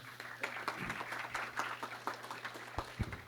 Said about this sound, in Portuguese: Então, mais uma salva de palmas, por gentileza.